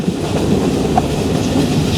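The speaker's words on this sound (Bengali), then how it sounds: "মিটার গেজে ট্রেনের সাউন্ডটা দেখতে পাচ্ছেন" Joyantika Express meter gauge train on the Dhaka to Sylhet line, rattling and clattering steadily on the track from inside the carriage, loud and continuous, with no voices.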